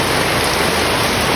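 Steady rain pours down outdoors during farm work among coconut trees, a dense continuous hiss with no breaks and no one talking.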